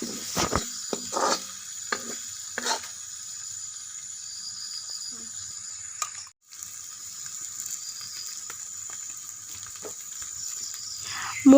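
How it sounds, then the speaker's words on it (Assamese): Potatoes frying with chicken meat in a pan for a chicken curry, a steady soft sizzle with a few stirring scrapes and clinks, a short pause midway, no talk. "এতিয়া আলুখিনি এতিয়া মই মাংসৰ লগত ভাজিম।"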